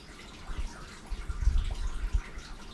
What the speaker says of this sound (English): You just kind of fill the side of your mouth up with water, and then you drink it.